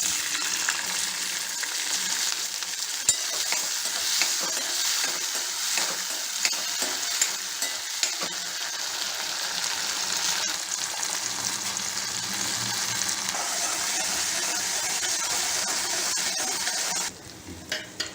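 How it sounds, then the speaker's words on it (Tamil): Turkey berries sautéing in a little oil in a pan, a continuous close sizzle with repeated stirring scrapes and occasional utensil knocks, cutting out near the end, with no voices. "வானலியில் கொஞ்சமாக எண்ணெய் விட்டுட்டு நம்ம வச்சுருக்க சுண்டைக்காய் எல்லாத்தையும் சேர்த்து அதை வந்து நல்லா"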